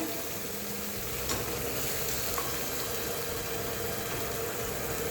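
Food sautéing in a pan during a bread-making cooking demo, giving a steady broadband sizzle throughout with a couple of faint clicks, no talking.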